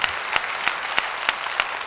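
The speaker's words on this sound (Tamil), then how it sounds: "மதுரை மக்களினுடைய சலியாத கைத்தட்டலை மாத்திரமே நம்பி" Steady audience applause fills a packed hall in Madurai during a Tamil speech event, a dense continuous wash of clapping with a few sharper bursts, moderately loud and without voices over it.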